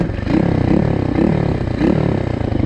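Loncin 110/125 motorcycle engine revs through its air filter with a whistling intake note, close and loud, rising and falling in three or four quick blips with a rattly pulsing texture.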